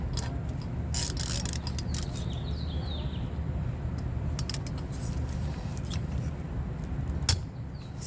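A ratchet turning a T30 Torx bit to loosen a bolt on a Poulan Prolink PPB 200E, giving a steady soft mechanical clicking texture throughout with a few sharper metallic snaps.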